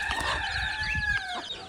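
Chickens in a backyard coop give loud, close, drawn-out clucking calls that overlap continuously, with no talk.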